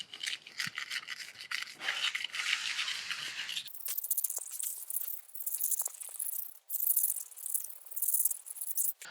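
A kitchen knife is stroked across a coarse grit sharpening stone, giving faint, rhythmic scraping and rasping strokes at close range.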